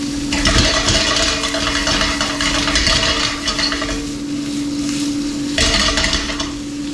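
Onions and sausage sauté in a pan for a green bean dish, a steady, close sizzle broken by the scrape and clink of stirring, with one louder flurry of stirring near the end.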